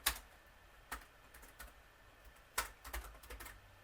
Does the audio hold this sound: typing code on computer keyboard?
yes